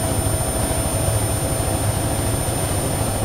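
A simulated helicopter engine from the flight game Take on Helicopters drones loudly and steadily, with a rapid low rotor thump pulsing beneath a constant turbine whine. No one speaks.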